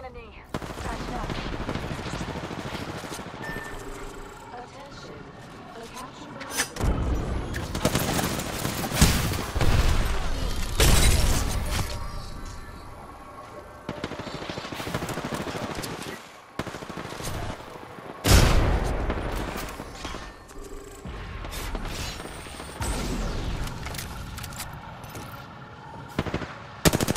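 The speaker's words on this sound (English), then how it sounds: "Who the fuck is shooting at me?" Heavy gunfire in the video game Apex Legends comes in loud, repeated machine-gun bursts with short gaps between them, and a player talks over parts of the shooting.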